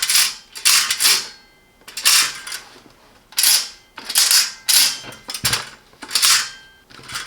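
A Silvercrest STD 870 A1 digital toaster's fold-out lever is worked repeatedly, giving a series of sharp plastic clicks and rattling snaps in irregular bursts, close up with no voices.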